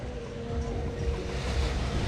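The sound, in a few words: ocean waves at Playa Mamitas beach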